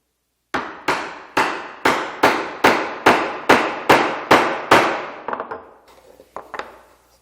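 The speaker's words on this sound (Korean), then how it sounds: "이쪽 부분에 끌을 넣고 옆에서 망치질을 해주면 목재가 떨어져 나옵니다." A hammer drives a chisel into wood for a joinery cut, ten sharp, evenly spaced strikes ringing out close and loud, followed by a few lighter scattered taps and clatter as the wood breaks away.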